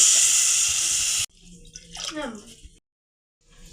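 Soaked kudampuli (Malabar tamarind) water is poured into a simmering koori fish curry, a brief steady watery splash lasting about a second, followed by a voice talking.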